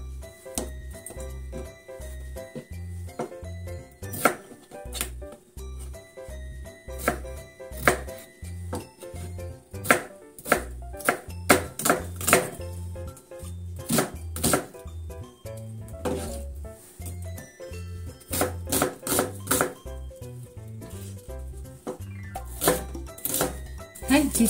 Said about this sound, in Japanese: 炒めやすいように小さく切りましょう。